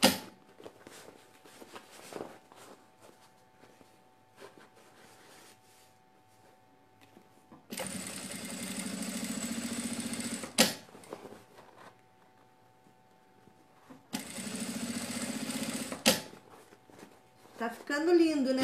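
A sewing machine stitches around a fabric sack-style bag in two separate bursts of steady, buzzing running of a few seconds each. Someone talks before the bursts, between them and after.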